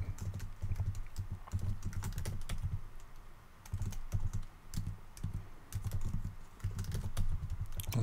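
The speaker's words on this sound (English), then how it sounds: "so it wasn't as much typing as it was made out to be" Rapid typing on a computer keyboard while writing Rust code, close clacking keystrokes in uneven bursts with short pauses, and no talk over it.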